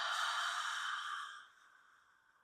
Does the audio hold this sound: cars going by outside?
no